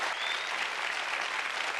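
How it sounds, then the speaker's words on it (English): A television studio audience on a 1981 game show applauds, a dense, even burst of clapping that fills the short moment without talk. "Ladies and gentlemen, give them a round of applause, will you?"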